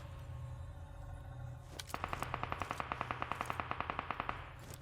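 Rapid automatic gunfire in the mobile battle-royale game PUBG Mobile: a loud, steady burst of evenly spaced shots lasting about three seconds, preceded by a single sharp shot, over low game ambience.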